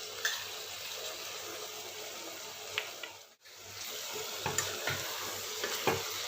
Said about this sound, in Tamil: தயிர் சேர்த்து நல்லா மிக்ஸ் பண்ணி விடுங்க